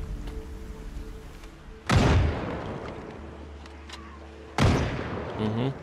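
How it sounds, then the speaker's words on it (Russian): Two loud, sharp gunshot blasts in the video game Project Zomboid, about three seconds apart, cut through a steady game soundtrack hum, each with a brief booming tail. "Хочу выстрелить пару раз."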